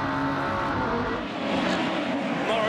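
Aussie Racing Cars race at Eastern Creek, engines buzzing and revving loud and steady as cars run close together, a sustained racing roar with no pause.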